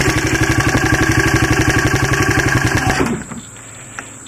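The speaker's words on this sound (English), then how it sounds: "It's idling." A worn Honda XR80 motorcycle engine idles nearby with a steady, rapid putter that cuts out abruptly after about three seconds, leaving near silence.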